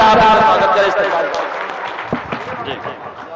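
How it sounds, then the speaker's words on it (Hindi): A crowd at a poetry gathering, a mushaira, claps loudly in welcome for a poet. The applause is strongest at first and fades over a few seconds as a voice begins speaking over the thinning claps. "एक बार जोरदार तालियों से आप स्वागत करें"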